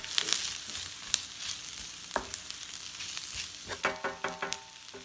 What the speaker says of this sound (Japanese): 半日干した玉ねぎを入れて炒めます。